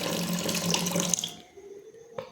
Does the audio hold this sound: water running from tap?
yes